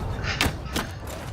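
Cannon fire in the video game Mount and Blade II: Bannerlord comes as two muffled, fairly distant booms about half a second apart over low background ambience.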